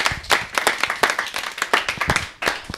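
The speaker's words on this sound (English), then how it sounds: "So a round of applause for everybody who took part." An audience at an XR industry gathering claps with clear, separate hand slaps in an uneven rhythm, loud and close, with no talking over it.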